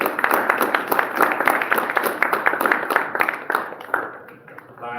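Warm applause from an audience at an authors' discussion event: steady, dense clapping of many hands close by, holding at a moderate level and then thinning out toward the end.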